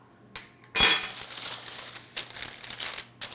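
A handful of dried beans used as pastry weights pours out in a quick rattling rush onto crinkly parchment paper over a pastry crust, followed by a few scattered clicks and rustles as they settle.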